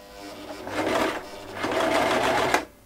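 A Toyota RS2000 sewing machine stitches in two close, whirring runs. A brief pause separates them, and the second ends with a clunk.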